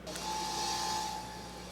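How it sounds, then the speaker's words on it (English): An RTM North oil rotary vacuum pump runs steadily in a composites workshop, a constant droning hum with a faint high whine, alone and fairly close. "This is an oil rotary vacuum pump from RTM North"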